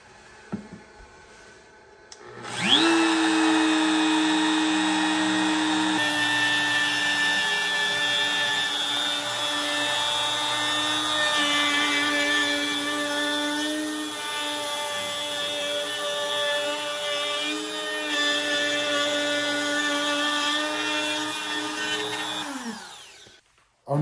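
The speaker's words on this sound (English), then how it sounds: "Our next step in our cutting board is to round over the edges. I'm going to use a 1/4 inch round over bit." Router fitted with a 1/4 inch round over bit shaping the edges of a maple and walnut cutting board, a steady loud high whine running continuously for about twenty seconds after spin-up, then winding down.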